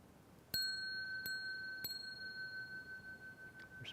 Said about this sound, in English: Let me get the bell.